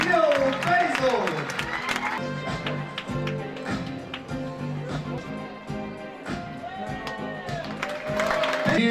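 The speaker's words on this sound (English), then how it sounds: "A huge round of applause for your director of Miss Lebanon, Neil Basil." An audience at the Miss Lebanon 2013 pageant applauds, a steady wash of clapping from a large crowd with scattered cheers, continuing under a presenter's amplified voice.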